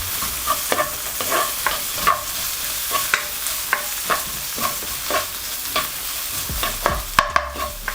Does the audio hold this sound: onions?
yes